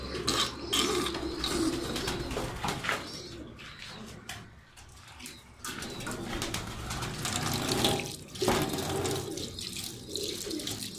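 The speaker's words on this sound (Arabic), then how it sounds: "هنفضي بقى المية العكرة دي ونملى لهم مية جديدة" Tap water runs steadily as a pigeon bath is emptied of dirty water and refilled with fresh, with pigeons cooing close by throughout.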